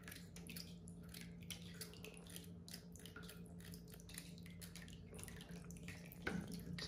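Purple-dyed water pours from a cut in a giant water bubble into a bathtub, a faint, continuous splashing trickle broken by small drips.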